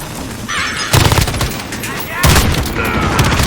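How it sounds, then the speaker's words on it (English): An M13 assault rifle firing in Call of Duty: Modern Warfare, two loud close bursts of automatic gunfire separated by a short pause, with game voices in the background. "still in the assault rifle class, using an M13 right now"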